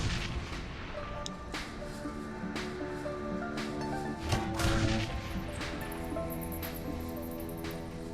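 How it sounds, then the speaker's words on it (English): A grenade launcher fires in the Shadowrun: Hong Kong video game, its sharp reports cracking over a dense, steady bed of game music and ambience, with several hits spaced through the stretch. "Get that grenade launcher and fire."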